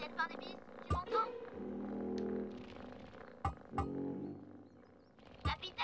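Soft, steady purring rumble from a cat, partly masked by a person speaking gently nearby, with a few brief clicks and taps.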